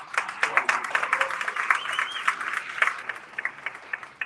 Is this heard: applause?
yes